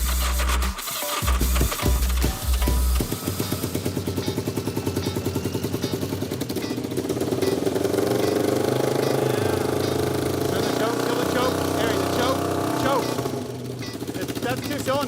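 A three-wheeled cage car's engine with a hole in the header, running on two cylinders, starts with a few coughing bursts, then roars loud and rough, pulsing steadily throughout with no pause.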